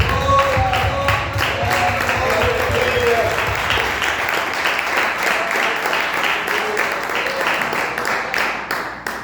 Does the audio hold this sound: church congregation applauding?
yes